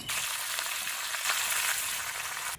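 Crushed garlic, ginger-garlic paste and curry leaves hit hot oil, producing a dense, loud, continuous sizzle and crackle that fills the short moment with no voices.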